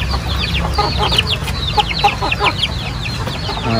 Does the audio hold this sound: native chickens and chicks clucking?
yes